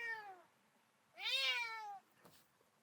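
A cat meows loudly outdoors: two drawn-out, close meows, the second longer and stronger, with a quiet pause between them and no talking.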